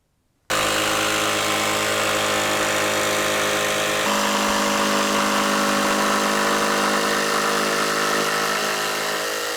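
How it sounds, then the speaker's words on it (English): A power tool cuts into a model railway baseboard, starting abruptly after a short silence and running loud and steady for several seconds, its pitch shifting partway through as the blade works the board. "So let's get stuck in to power tools."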